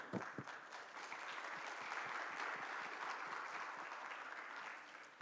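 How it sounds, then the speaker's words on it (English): Audience applause for four young explorers at the Asia-Pacific Young Leaders Forum in Jeju, a soft, distant wash of steady clapping that swells slightly mid-way and holds for about five seconds. "let's give our 4 explorers a big round of applause."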